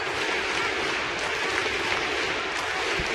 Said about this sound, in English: This place is going nuts.